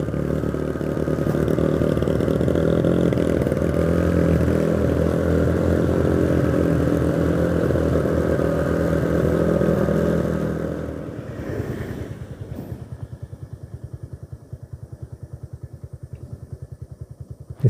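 A Honda Mega Pro motorcycle labours up a steep, extreme uphill road in second gear, its engine droning loud and close for about ten seconds before dropping to a quieter, rough idle-like putter.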